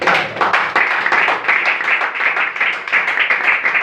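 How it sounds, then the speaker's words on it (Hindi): An audience at a religious talk applauds loudly, a dense, steady wash of many hands clapping that runs unbroken from start to finish. "मौसन भाई के लिए और वकास भाई के लिए एक बार जोरदार ताली"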